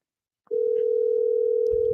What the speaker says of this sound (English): We got telephone dial tone